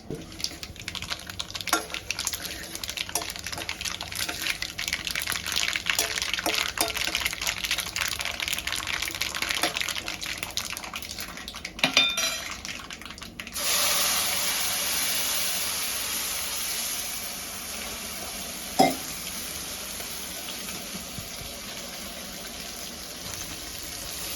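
Water pours and splashes steadily into peanut chutney among light clinks of utensils, then a louder, even rushing hiss takes over.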